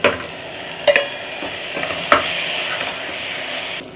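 Chopped tomatoes sauté in a hot pan for a fenugreek kuzhambu, giving a steady close sizzle with occasional scraping stirs of a spoon, and no talk.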